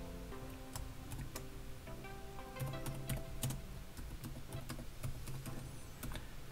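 Quick, irregular clicking of keys on a computer keyboard while code is typed in Android Studio, fairly close, with bursts of keystrokes across the whole stretch and no talk.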